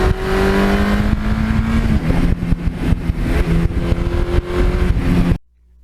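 A 1982 Suzuki GS1100E motorcycle engine revs loudly and close by, a steady throaty roar whose pitch rises and settles before cutting off abruptly near the end.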